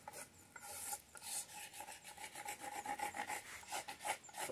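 Hand sanding of a wooden bunk bed frame to strip grime before painting, a steady close rasping scrape in repeated back-and-forth strokes with no talking.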